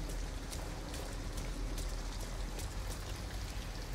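Rain falling outdoors near an abandoned house in the video game Detroit: Become Human, a steady soft patter of drops with low rumble beneath, even and continuous, moderately quiet with no voices.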